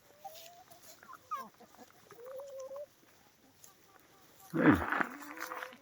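Village hens, pullets and a young rooster roaming outdoors after rain, giving scattered soft clucks and short calls, with a louder squawking burst near the end, while a person talks over them.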